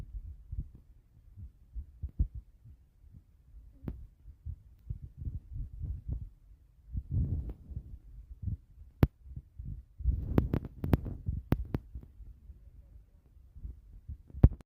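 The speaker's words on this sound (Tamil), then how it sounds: "அதுக்குள்ளே வெல்லத்தை உடச்சிக்கலாம்." Lumps of jaggery are broken into pieces by hand for a sweet, giving a series of soft close knocks and crunching thuds at an irregular rhythm, with a few sharper cracks near the end.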